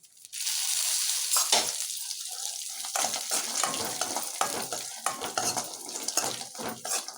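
Chopped raisins, cashews and almonds fry in hot ghee in a pan with a steady sizzle, while a spoon stirs and scrapes them in repeated clinks close by.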